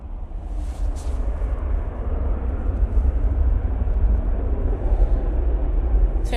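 Ryanair Boeing 737-800 arriving at Manchester Airport, a steady, broad jet roar holding at an even loudness throughout, fairly close and with no voices over it.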